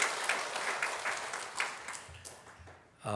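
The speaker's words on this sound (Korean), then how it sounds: "우리 모두를 위해서 우리 박수 한번 하겠습니다." A church congregation claps together for the choir in a short, moderately loud burst with rhythmic pulses, tapering off before a voice comes in at the very end.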